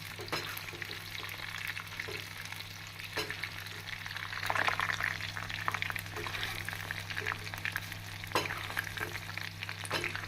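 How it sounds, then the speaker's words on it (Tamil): Soya chunks for meal maker 65, already boiled, deep-frying in hot oil with a steady, dense sizzle and crackle throughout, occasional stirring clatter rising in the middle, and no talk. "இது நாம் ஏற்கனவே வேக வைத்ததால் ஒரு 2 நிமிடத்திலே நன்றாக மொறுமொறுப்பாக வெந்து வந்துவிடும்."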